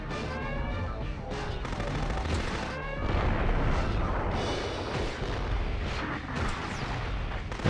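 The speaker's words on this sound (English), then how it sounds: "I gotta stop using mortars, I'm almost out." Mortar fire in the mecha game Future Cop LAPD, a loud run of repeated booming blasts and explosions over a dense rumbling background of game audio, with no speech.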